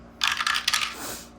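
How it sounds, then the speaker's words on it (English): Dice roll and rattle across a tabletop during a board game, a quick clatter of several tumbling hits that settles into a soft fading rattle, close and clear with no talking. "so let's go ahead and roll D3 again"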